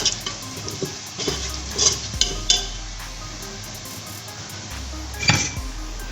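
Whole spices fry and get stirred in a pan for an achar gosht, with a soft sizzle under occasional scrapes and clinks of a spoon against the metal, close by and fairly quiet.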